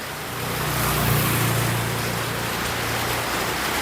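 Steady rain falls during a tuk-tuk ride in Sri Lanka, a dense, continuous hiss close around the listener, with a low engine rumble underneath.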